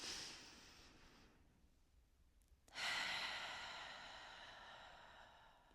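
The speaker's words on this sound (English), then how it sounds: "So just take a deep breath in with me." A slow breath is drawn in, then after a pause a long, audible exhale follows, close to the microphone during a breathing exercise.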